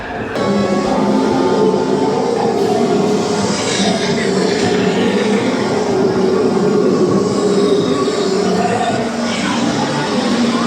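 Disneyland Railroad train rolls along in a loud, continuous rumble of wheels and clattering cars with squeals and metallic creaks, heard from on board as it slows toward a stop.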